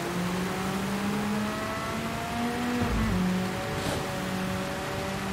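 Engine of a Nissan Skyline Super Silhouette race car in Gran Turismo 7, a steady near whine rising and dropping as the throttle is feathered, with a brief shift bump midway and constant background hiss.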